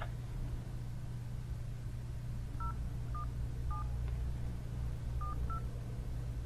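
Telephone keypad tones beep as a PIN is entered over a speakerphone line, five short, evenly pitched presses spaced irregularly over a steady low hum and background hiss.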